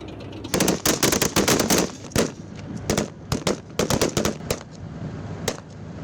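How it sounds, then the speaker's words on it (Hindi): Gunfire from a BMP infantry vehicle giving fire support during an army demonstration: loud, rapid bursts of automatic fire in quick repeated volleys, with short gaps between them. "और ये जो BMP जो साइड में जा रहा है, they are going for giving fire support"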